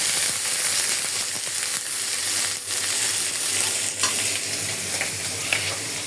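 Shrimp frying in a hot pan while being stirred, a continuous close sizzle broken by scraping strokes and light clinks of the utensil, with no talking.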